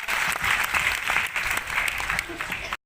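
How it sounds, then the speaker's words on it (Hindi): Loud, enthusiastic audience applause at a Modicare network marketing event in Faridabad, a thick burst of many hands clapping that holds strongly for a few seconds before cutting off abruptly. "बहुत बढ़िया तालियां जोरदार"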